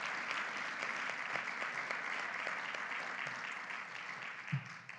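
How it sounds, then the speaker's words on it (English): Steady audience applause at a health authority's annual general meeting, a dense wash of many hands clapping continuously, quite faint and distant, with no talking over it. "please join me, though, in a round of applause for her and her dedication"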